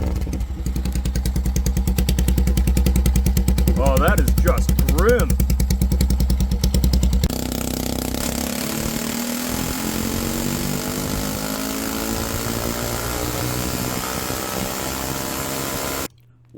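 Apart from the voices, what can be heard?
pitbike engine with original straight pipe exhaust at max power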